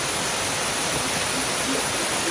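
A continuous rushing of water as a stream flows over large rocks on its way to a waterfall on a forest trek, close and steady with no break or voices.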